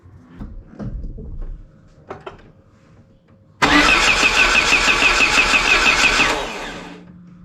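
A Peugeot 205 GTI cranks loudly and steadily for about three seconds without catching, its starter whirring in a rapid even rhythm. Softer knocks and clicks come before it, and the cranking fades at the end.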